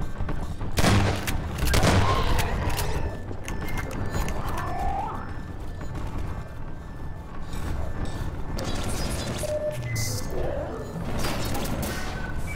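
Chaotic Half-Life 2: Episode 2 firefight during a silo assault, with bursts of gunfire, crashes and booms layered over continuous mechanical noise, fairly loud throughout with no clear pauses.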